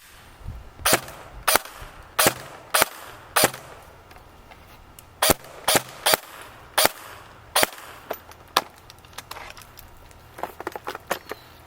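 A Barra 400E Gen 2 electric BB gun fires semi-automatically in sharp, snappy single shots, about a dozen spaced irregularly roughly a second apart. The shots come close and clear, with softer clicks trailing at the end.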